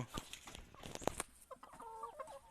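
Laying hens cluck in their pen on a small backyard egg farm, with several hens calling near and far in short irregular bursts and a sharp squawk partway through, quiet overall with no talk.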